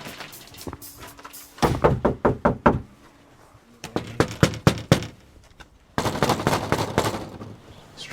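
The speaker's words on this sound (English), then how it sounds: "Strong knock." Firm knuckle raps strike a residential front door in snowy Iowa, three separate bursts of rapid loud knocks, each a quick run of five or six sharp hits, with pauses between.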